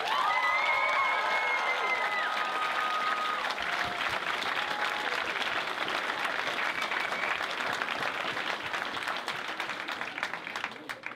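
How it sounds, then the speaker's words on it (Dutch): Audience at a gala film night breaks into sustained applause and cheering, a loud, dense wash of clapping that carries on for over ten seconds, with brief voices and a few whoops mixed in. "Ongelooflijk applaus voor deze toffe groep mensen."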